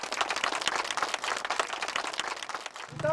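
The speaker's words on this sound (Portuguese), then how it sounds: "dando uma salva de palmas pra ela" An audience applauds with brisk, dense clapping that holds steady for about three seconds, then cuts off abruptly at the end.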